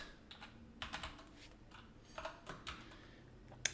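Someone types on a computer keyboard at an unhurried pace, with scattered key clicks in small bursts and a sharper tap at the end, close by and without speech.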